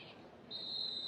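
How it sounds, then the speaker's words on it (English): A referee's whistle sounds a foul in a women's professional soccer match: one clear, sustained, high-pitched blast that starts midway and holds steady, heard at a distance and fairly faint over low crowd ambience. "Puerta whistled for the foul as she and Aguilera came together"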